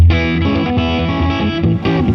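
An electric guitar plays through a mic'd Supro Saturn Reverb amplifier, loud distorted chords with rich sustained harmonics and a brief rhythmic shift near the end, heard alone without talk.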